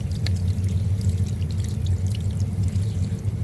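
Water is poured and splashed over crab being washed by the sea, a continuous close pouring and trickling with faint drips throughout, no voices.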